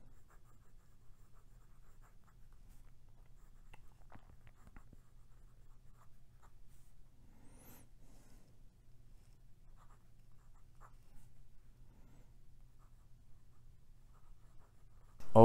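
Faint, close scratching of a Pilot Custom 74 fountain pen with a medium nib writing on paper, soft intermittent strokes over a low steady hum, with no talking.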